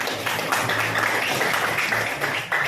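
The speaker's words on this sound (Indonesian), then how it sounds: "tepuk tangan dulu untuk Dina." A classroom full of children clapping steadily for a few seconds, a dense patter of hand claps with a faint murmur of voices underneath.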